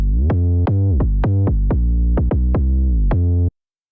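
Synth bass pushed through a saturator plugin that crushes it slightly, a loud, gritty sustained tone pulsing in about a dozen rhythmic note re-attacks over a few seconds, alone and close.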